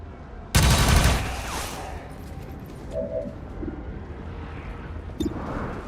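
XCOM 2 gunfire bursts out as one loud, close, rapid volley lasting about a second, then trails off into quieter game ambience with small clicks and a faint later crack.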